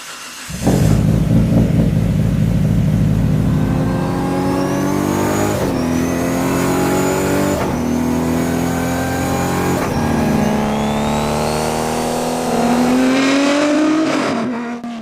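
Nissan Skyline R32 GTR engine revving hard, loud and close, with rising and falling pitch sweeps as it climbs through gears over fifteen seconds, no talk.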